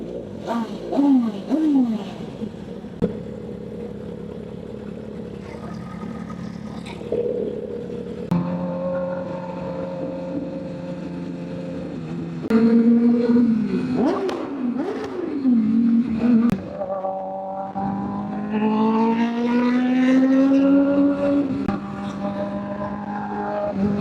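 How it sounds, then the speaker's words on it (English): Sport motorcycles, including a BMW S1000 and Kawasaki ZX10Rs, rev loudly during a big group ride and bike meet in Omaha, with repeated rising and falling engine roars and gear changes, close by and continuous. "Jeremiah on the S1000, ZX10R, another ZX10R."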